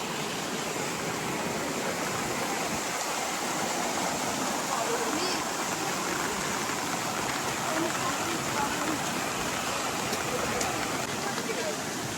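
A stream flowing beneath a small footbridge on the Raireshwar plateau trek makes a steady, dense rush of water that stays even and unbroken throughout.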